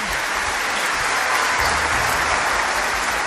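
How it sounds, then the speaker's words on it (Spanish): Dense, steady applause from a large crowd fills the whole stretch, a continuous wash of clapping with no pauses. "El show terminó entre aplausos"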